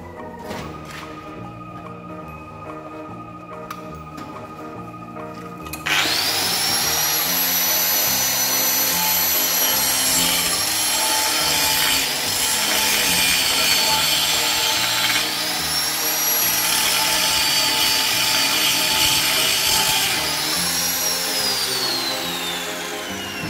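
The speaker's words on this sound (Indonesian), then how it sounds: "kita gerinda pada ujung ya, sampai berbentuk landai menggunakan gerinda" An angle grinder bevels the edge of a steel plate before a 2G SMAW root-pass weld. It starts after a quieter lead-in and then grinds loud and steady with shifting whine, holding for most of the clip.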